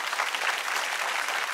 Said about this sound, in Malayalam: ഒരു വലിയ കൈയടി കൊടുക്കും